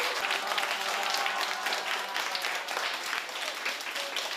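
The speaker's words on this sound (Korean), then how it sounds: "오늘 이형 박수로 마무리하겠습니다." A classroom group of students claps together to close a software lesson, a steady dense patter of hands lasting several seconds.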